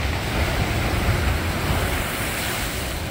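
Rough ocean waves break on the shore in a steady roaring wash of surf, loud and close, with wind buffeting throughout.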